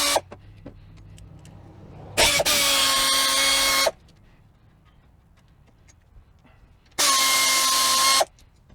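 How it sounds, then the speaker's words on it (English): Impact or power tool loosening the brake caliper bolts on a 2009 Hyundai Elantra, heard in two loud sustained whirring bursts of about one and a half seconds each, with quieter clicks and shop noise in between. "Now we're going to remove these two bolts holding the caliper in place."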